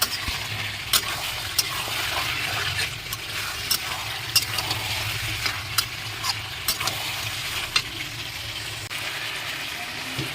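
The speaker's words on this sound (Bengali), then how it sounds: "এই যে জলটা ঢেলে দেবো গরম জল" Duck meat sizzling and frying in a pan during village-style cooking as hot water is poured in, a steady hiss with occasional sharp crackles and pops, close and fairly loud.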